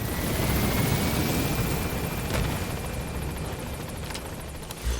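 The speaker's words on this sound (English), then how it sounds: "It just feels awfully quiet, aside from the engine of the helicopter." Steady helicopter engine drone in the stealth video game Metal Gear Solid V: The Phantom Pain, a continuous loud rumble with a few faint higher tones and clicks layered on top, no voices.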